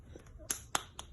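A few faint, sharp hand claps at a birthday celebration, three distinct snaps spaced unevenly over about a second against quiet background.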